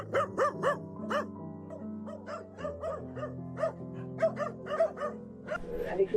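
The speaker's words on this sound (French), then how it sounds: "Nous découvrons des chiens enfermés dans des petites cages, dont plusieurs chiots pour certains à peine âgés d'une semaine." Several cocker spaniels and young puppies shut in small cages bark and yelp in quick, overlapping bursts, close and insistent, with high whimpering yips mixed among the barks.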